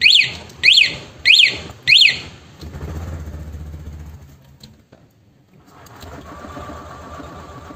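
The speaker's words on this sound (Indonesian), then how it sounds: "dia akan ngeluarin sirine ya, walaupun pakai alarm mode silent" A remote alarm on a 2022 Honda Beat New scooter sounding its siren: four loud, close, rising-and-falling electronic chirps in quick succession, followed by a low rumble and mechanical rattling.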